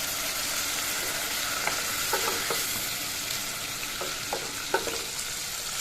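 Skunk vine and fish sizzle steadily in a pan after water is added, a dense continuous frying hiss with scattered light taps and scrapes from stirring, close and without speech.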